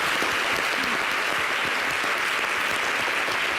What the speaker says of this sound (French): On applaudit pour Zouzoua quand même, les gars